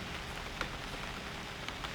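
Steady rain patters on surfaces in the survival game UnReal World, a dense continuous hiss with a few slightly louder drops, fairly soft and with no voices.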